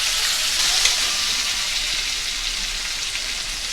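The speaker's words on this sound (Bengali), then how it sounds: "পরিমাণ মতো পেঁয়াজ কুচি দিয়ে দিলাম। আর দিয়ে দিচ্ছি পরিমাণ মতন টমাটম।" Chopped onion and tomato frying in a hot pan, a loud continuous close sizzle with a steady hiss throughout.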